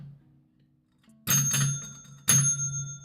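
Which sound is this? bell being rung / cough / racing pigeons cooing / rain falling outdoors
bell being rung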